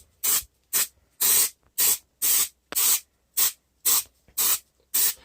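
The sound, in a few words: spraying glue from a spray can onto foam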